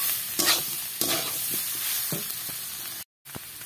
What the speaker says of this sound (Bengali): দিয়ে আর একটু ভালো করে এটাকে নাড়াচাড়া করে কষিয়ে নিতে হবে মশলাটা।